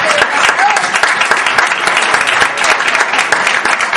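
A conference audience in Tenerife claps steadily and densely, sustained applause filling the space throughout at a loud, even level.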